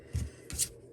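Scissors snip twice at the cotton loops of a woven twill potholder, two quick, close, soft cuts within a second.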